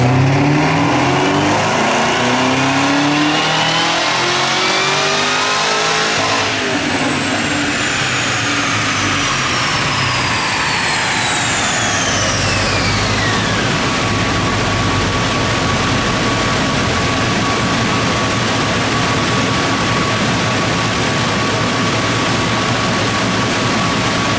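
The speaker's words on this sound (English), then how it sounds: "get this thing spun up stock, and see what it makes" Chevrolet Camaro ZL1 with the stock intake wound up on a dyno: a loud, sustained engine roar climbing steadily in pitch through the gears, with a rising supercharger whine and then a long high-rpm pull, no talking.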